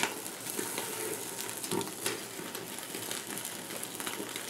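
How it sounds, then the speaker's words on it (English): Twenty-eight-day dry-aged wagyu striploin steaks sear over heat with a steady, dense sizzling hiss and scattered crackles throughout. There is no talking. "just getting the perfect little sear with the steaks"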